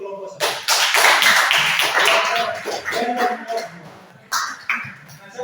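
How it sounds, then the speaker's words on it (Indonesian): A class of students claps together for a group of classmates, loud and dense at first and then thinning, with voices mixed into the clapping and a short burst near the end. "oke, beri tepuk tangan dulu untuk kelompok satu"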